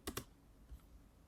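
Two quick keystrokes sound on a computer keyboard while a 3D modeling program is in use. The taps are crisp and close, followed by faint room quiet.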